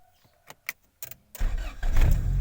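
A car engine cranks and catches after a few soft clicks, triggered by an aftermarket smart key push-start button fitted alongside an Android head unit, then settles into a loud, steady idle close by.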